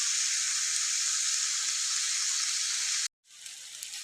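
Tomatoes fry in hot oil with a steady, bright sizzle that holds close and loud, then drops out abruptly for a moment before resuming more softly.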